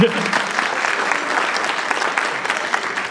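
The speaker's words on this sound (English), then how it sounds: "yes, you may clap" An audience at the Perryton High School band concert gives steady, sustained applause that fills the hall at an even level throughout.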